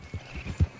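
Hooves of a horse in Red Dead Redemption 2 clip-clopping in a few soft, uneven thuds, brief and fairly close with no voices.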